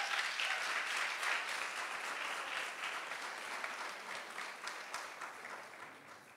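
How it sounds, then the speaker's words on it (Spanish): An audience claps steadily at a presentation event, a dense wash of applause that gradually fades a little toward the end. "Démosle un fuerte aplauso,"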